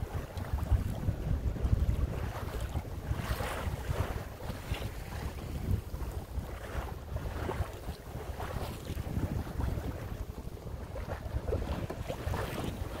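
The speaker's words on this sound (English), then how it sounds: "Nice little breeze." A light breeze rushes steadily over a Compac 19 sailboat on an evening sail, wind noise buffeting the microphone alongside soft lapping water against the hull, with no talk.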